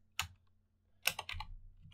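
Computer keyboard typing in short bursts, a single click followed by a quick cluster of keystrokes, close and fairly quiet with no talking.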